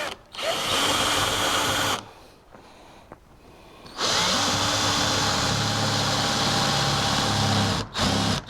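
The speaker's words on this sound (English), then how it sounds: "We just need to drill it. Now this is a 17/64 hole." Power drill boring a 17/64-inch hole through a metal shifter bracket on a C2 Corvette, a steady high whine that runs, pauses for about two seconds, then resumes with a lower grinding load, loud and close.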